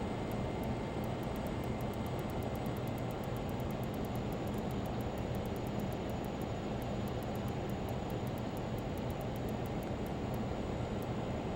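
Steady, droning engine roar from a Learjet 35A in flight in Microsoft Flight Simulator, holding a constant level throughout, with a faint regular ticking running along above it.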